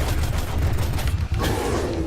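Dense, continuous gunfire and blasts from shooting in the video game Digmbot, loud and relentless over steady game music and effects.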